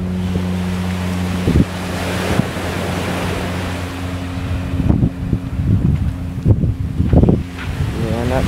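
Atlantic Ocean waves wash against the beach by the Kingston Seawall in Georgetown, Guyana, a steady surf roar mixed with wind buffeting, while steady low hum and occasional voices and bumps sit nearby.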